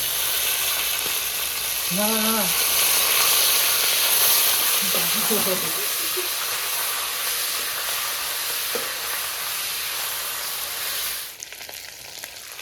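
Ginger garlic paste and masala hit frying meat in a hot pan, giving a loud, continuous sizzle and hiss that holds throughout, while someone briefly speaks and laughs over it.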